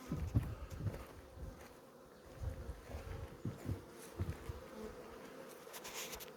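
Carniolan honey bees swarm over a small five-frame hive, their dense buzzing humming low and steady around frames, with occasional closer passes and faint rustling, no talk.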